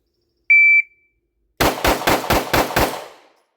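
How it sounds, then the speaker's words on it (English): A standard Glock pistol is fired rapidly: a short electronic shot-timer beep, then after a pause six sharp, loud gunshots in quick, even succession, each with a brief ringing tail. "All right, so old reliable standard Glock here for our first one."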